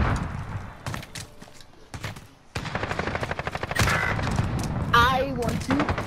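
Rapid automatic gunfire rattles in a search-and-destroy shooter video game match, with close bursts of repeated shots continuing almost nonstop and players talking over the top.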